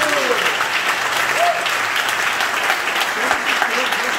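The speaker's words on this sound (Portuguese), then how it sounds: "Aplaude a Jesus" A church congregation claps loudly and continuously in a reverberant hall, with voices calling out over the applause throughout.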